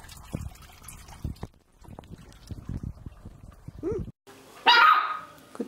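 A dog barks and yelps repeatedly in short, close bursts, followed by a loud splash of water near the end.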